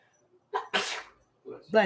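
A single sharp human sneeze bursts out after a short intake of breath, close and loud, followed by a person talking briefly.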